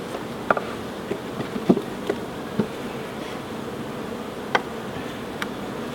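Honeybees buzz around an open hive while a dummy board is lifted out, a low steady hum with scattered brief clicks and taps from handling the sticky frames nearby.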